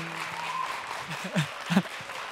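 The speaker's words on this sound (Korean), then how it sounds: "네, 다시 한번 박수" Audience applause at a live year-end public broadcast concert, a spread of clapping heard under an amplified voice, with a few louder bursts near the end.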